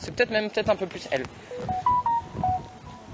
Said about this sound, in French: Mais c'est qui cette belle sonnerie? C'est un portable?